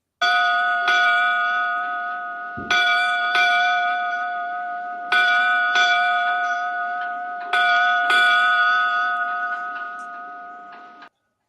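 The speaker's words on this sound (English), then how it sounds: "So there are our 8 bells" A ceremonial bell at a comic convention struck eight times in four pairs, each ring sharp and clear with a long, sustained metallic ring fading between strikes.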